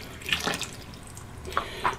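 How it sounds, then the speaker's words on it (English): Water splashes and drips near a sink during a wet shave with soap. Soft trickling runs under a few brief, clear splashy drips, spaced out, with no talking. "really generous with the water"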